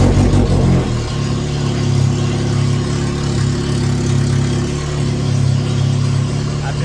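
A VW MK1 Rabbit engine, newly converted from CIS fuel injection to a carburetor, runs at a steady, loud idle with a low droning hum that stays constant throughout.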